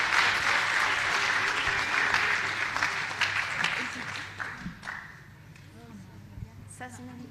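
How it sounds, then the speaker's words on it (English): Audience applause at an agricultural big data convention, a dense sustained clapping that fills the room and then thins out into scattered claps after about five seconds. "please, guys, if you can give them another round of applause"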